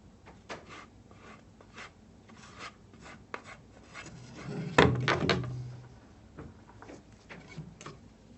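A mixing stick spreads and presses epoxy into a fillet joint with soft scraping and rubbing strokes, close and quiet. A louder dabbing scrape sounds midway.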